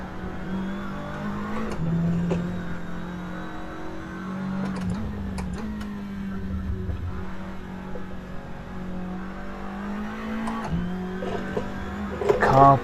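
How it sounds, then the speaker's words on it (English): A Seat Leon TCR touring car engine in the Assetto Corsa racing game, droning steadily and rising and falling as the throttle is pressed hard, with small spikes of revving and brief bursts near the end. "Car pulling itself out that wide as I mash the throttle."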